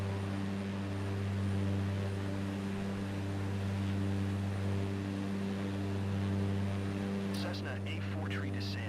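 Cessna propeller plane cruising in Microsoft Flight Simulator 2024, a steady droning engine hum with strong, even low tones held throughout, and a few brief clicks near the end.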